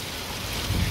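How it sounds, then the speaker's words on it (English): Steady rain falls during a Texas tornado warning, a dense even hiss with a deeper low rumble building toward the end. "It's just rain, you're fine."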